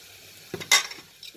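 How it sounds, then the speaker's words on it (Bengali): A brief sizzle and stir as turmeric, garlic paste and ginger paste are sautéed in a pan while cooking an egg and potato curry, with a soft clink of a spoon and quick hissing burst. "মশলাগুলো একটু কষিয়ে নিতে হবে।"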